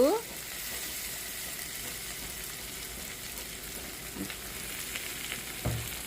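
Onions frying in a pan with small bay leaves and cumin while a prawn curry is prepared, a steady soft sizzle throughout with a brief stir clatter near the end.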